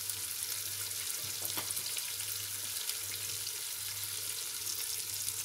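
Masala for mutton kofta curry sizzles and crackles steadily in hot ghee, a close, continuous frying hiss with an occasional stir and a faint low hum behind.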